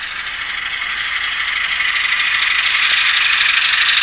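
A model Atlas RS-1 diesel locomotive's ESU sound decoder hums and rattles steadily, a bright buzzing drone that slowly builds in loudness.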